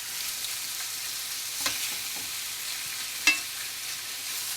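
Chicken pieces browning in a hot pan make a strong, continuous sizzle, broken by two brief knocks of stirring against the pan and no talking.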